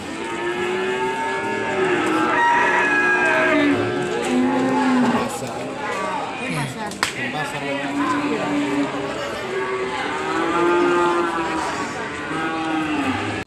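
Cattle at a livestock market moo repeatedly in long, drawn-out calls, several animals near and farther off, over a busy market background with people talking.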